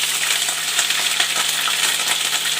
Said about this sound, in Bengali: আদা পেস্ট, রসুন পেস্টটা দিয়ে দেবো।